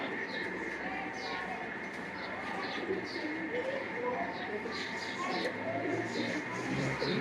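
Pigeons coo softly and repeatedly in a busy, noisy setting, with a steady murmur of voices and background hum throughout.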